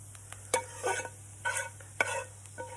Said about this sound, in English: So I'm going to take a slotted spoon, because I want to try and retain some of that butter, and just take out my onions.